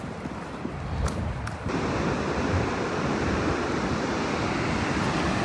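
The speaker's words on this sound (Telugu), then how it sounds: "వాటర్ ఫాల్స్ కనిపిస్తున్నాయి చూడు కుంబే వాటర్ ఫాల్స్" Kumbhe waterfalls in Maharashtra during the monsoon give a steady, loud broadband roar of falling water, continuous and unbroken, with a brief lighter stretch before it swells to full strength; no voices are heard.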